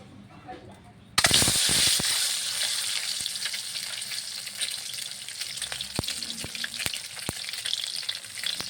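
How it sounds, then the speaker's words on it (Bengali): Eggs hit hot oil in a flat pan with a sudden loud burst of sizzling that settles into a steady crackle, sharp pops and spatters breaking through it, close up with no voices. "ডিম ভেজে নেব"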